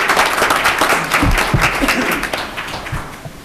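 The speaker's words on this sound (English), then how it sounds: "Make a round of applause for the Anchor Bay Junior R.O.T.C." A township board meeting audience gives a round of applause for a junior ROTC color guard, steady dense clapping that fades slightly toward the end.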